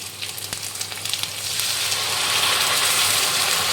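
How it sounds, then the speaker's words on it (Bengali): Masala with ginger-garlic paste sizzles in hot oil, close loud frying crackle rising into a steady hiss with occasional stirring clicks. "ভালো করে পুরো মশলাটা এখন কষাবো"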